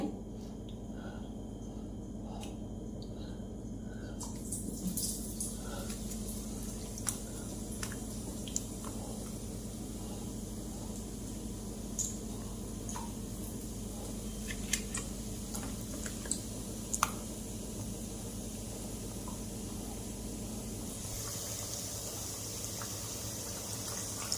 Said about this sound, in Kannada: ಈಗ ಇದರಲ್ಲಿ ಡಿಪ್ ಮಾಡಿ ಒಂದೊಂದೇ ಫ್ರೈ ಮಾಡ್ತೇನೆ